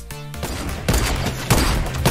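Rapid gunfire bursts from a hacker's weapon in Fortnite, loud repeated shots in several volleys over a dense game soundscape.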